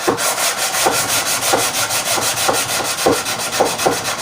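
Sanding a guitar fretboard to a radius with long strokes of a block, a rhythmic rasping rub repeating roughly every half second, close and loud with no talk.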